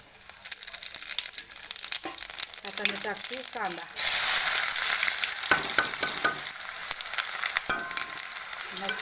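Cumin seeds drop into hot oil in a home kitchen and burst into a sudden loud sizzle that keeps crackling unevenly. A voice talks over the frying.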